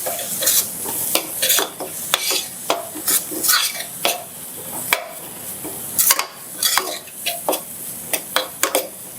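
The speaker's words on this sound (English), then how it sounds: "And let that fry up." Thin slices of cassava frying in a pan give off a steady sizzle, broken by frequent scraping and stirring clatter from a utensil against the pan, close and fairly loud.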